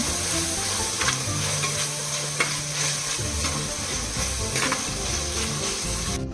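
Ginger garlic paste fries in a pan for an egg curry gravy, giving a steady close sizzle with occasional scraping stirs and no talk.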